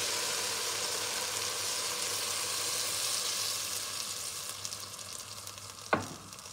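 Shrimp bisque with tomato paste, white wine and water gets stirred in a pot over a soft constant simmering hiss, ending with a single sharp clink of the utensil.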